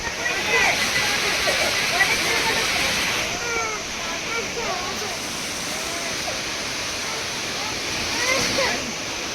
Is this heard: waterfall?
yes